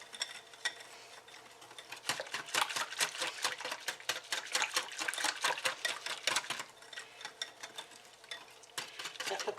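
Quiche filling made with leftover meatloaf is mixed in a bowl until smooth, giving a steady run of quick, rhythmic scraping and sloshing strokes that stay close and fairly loud, with a short pause near the start.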